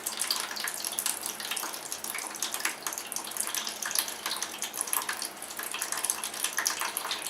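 Steady splashing, rushing water drains from a toilet under repair into a pan, a bright broadband hiss with no pauses for the whole stretch.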